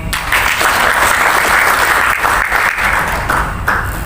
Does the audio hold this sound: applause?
yes